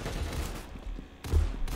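Desert Eagle pistol fire in the Roblox shooter Arsenal, heavy low booms in a short burst with a louder, closer shot near the end.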